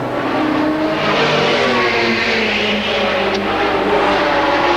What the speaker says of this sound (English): There is Jaguar number 5 going through.